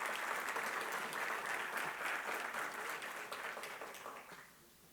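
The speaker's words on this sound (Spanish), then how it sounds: "Pedimos un aplauso para el ingeniero Alfredo Bonín y para toda la mesa" An audience at an engineering conference breaks into sustained applause, dense steady clapping from a room of listeners that tapers off and dies away near the end.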